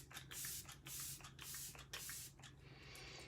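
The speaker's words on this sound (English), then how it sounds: "It's the setting spray, the refreshing spray." Makeup setting spray misted onto a face in several short pumped bursts, each a soft airy hiss, quiet and close, with brief pauses between sprays.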